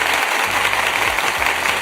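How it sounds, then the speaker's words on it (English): A small group claps hands in celebration of a couple's long marriage, a continuous brisk patter heard close and fairly loud, with faint voices beneath. "So we hand clap for that."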